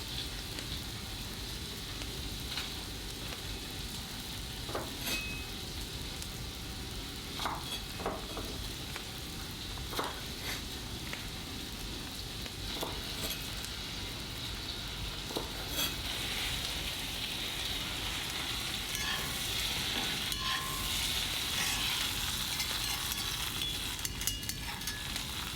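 Vegetable dressing with black pepper and green onions cooks in a pan, giving a steady soft sizzle with scattered light clicks and scrapes of stirring throughout, no talking.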